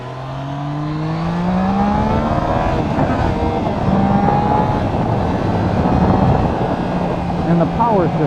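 A Triumph Trident 660 motorcycle engine revs and drops through rising and falling pitch sweeps during downshifts, close and loud beneath wind rush, with a rider's voice speaking over it.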